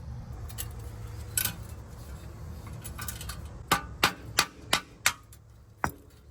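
A brick strikes a metal junkyard car part in a series of sharp metallic impacts, about six strikes in a loose rhythm, close and loud over faint background noise.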